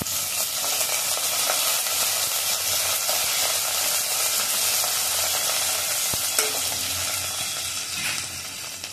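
Coriander leaves fry in hot oil for a dal tempering, a loud continuous close sizzle with faint stirring underneath and no talk.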